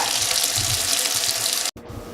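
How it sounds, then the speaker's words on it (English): Hot water running steadily from a household tap, a dense continuous hiss and splash that briefly cuts off near the end and then resumes, heard up close with no talking. "in my house, my water gets really hot. So I'm going to go ahead and start it"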